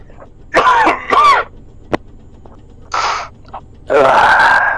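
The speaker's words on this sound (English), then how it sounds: "Keep your fucking coughing out of me fucking mic" Coughing and throat clearing picked up over a voice-chat microphone during an Arma 3 multiplayer mission, several loud close bursts in a row with gaps of quiet between them.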